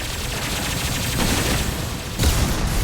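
SMG fire loaded with disruptor ammo in Mass Effect 2 Legendary Edition pours out as dense, continuous rattling bursts in combat, loud and sustained, with a sharper crack near the end.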